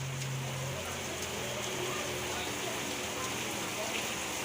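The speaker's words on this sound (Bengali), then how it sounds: "বাইরে মুষলধারে বৃষ্টি পড়ছে" Heavy rain pours steadily outdoors in a dense, continuous hiss that holds the same level throughout, with no breaks or separate drops standing out.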